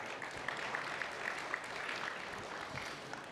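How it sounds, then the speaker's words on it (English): Audience at a fintech conference panel on retail central bank digital currency applauding to welcome the speakers, a steady burst of clapping from a medium-sized crowd for a few seconds. "Let's welcome them again with another warm round of applause,"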